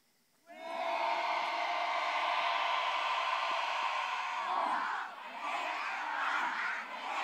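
A crowd of students at a business administration faculty cheer event chants loudly and continuously in unison, a sustained group cheer with a brief dip near the end.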